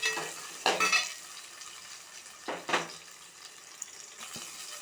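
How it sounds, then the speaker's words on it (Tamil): Thinly sliced onions sautéing in a pan with cinnamon and fennel, a quiet sizzle broken by two louder bursts of stirring and a faint clink, close and without talk. "இப்போது பட்டை சோம்பு பொரிஞ்சிடுத்து, ஆனியன் நல்லா நீட்டாக கட் பண்ணதை சேர்த்துருங்க. நல்லா வதக்கி விட்டுடலாம்."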